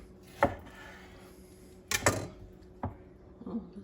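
Knife cutting homemade bologna in half on a board: a few sharp, isolated thunks spaced about a second apart, close and fairly quiet against a faint hum.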